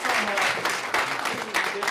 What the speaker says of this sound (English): give them a round of applause for everything that they've done